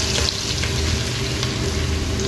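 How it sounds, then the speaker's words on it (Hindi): Garlic frying in hot oil, a steady loud sizzle that holds evenly throughout with no talking. "सबसे पहले ये थोम डाल रहे हैं"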